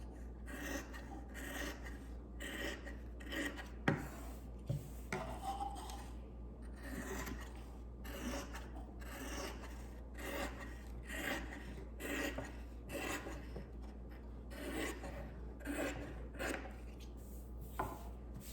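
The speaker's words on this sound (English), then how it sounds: "we're going to cut all that excess off" Scissors trim excess interfacing fabric from a log cabin pillow block, giving soft repeated snips and rustling fabric close to the mic over steady low background hum.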